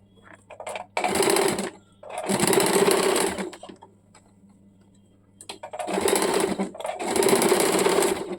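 A sewing machine runs a double line of stitching along the shoulder strip of a baby umbrella frock. It whirs in four close, steady bursts with short quiet pauses between them.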